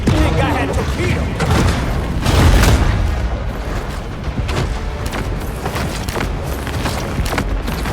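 Torpedo blasts in the shark game Maneater, with dense, continuous booming and thudding explosions layered over one another, loud and close throughout, with a voice talking over them.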